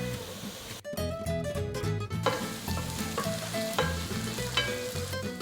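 Sliced beans fry in a pan for a fish masala dish, giving a steady sizzle with clattering stirring and utensil knocks throughout, close and fairly quiet.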